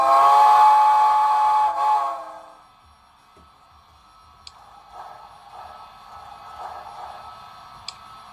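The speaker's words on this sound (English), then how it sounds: "As for the whistle, we'll select a Hancock 3 chime." A Hancock three-chime steam whistle from a Soundtraxx Blunami decoder in an HO scale Yellowstone articulated steam locomotive blows one loud, steady chord for about two seconds, followed by quiet hiss and faint clicks.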